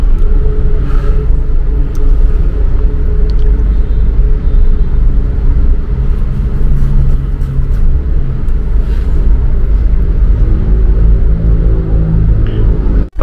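A car idling and creeping through heavy evening city traffic on the way home, a steady low engine rumble and road noise running throughout, close and continuous with no talk.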